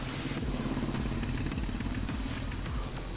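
Exhaust note of a Honda Highness 350 motorcycle while riding: a steady, low, thumping single-cylinder drone with a slight rhythmic pulse, continuous and fairly close, with wind rumble under it.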